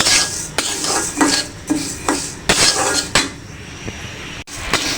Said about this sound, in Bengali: মুগ ডালটা আমি হালকা লাল করে ভেজে নেব।